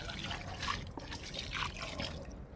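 A mug of water poured into a large plant tub makes a faint, close trickle and splash with a few soft drips, quiet throughout.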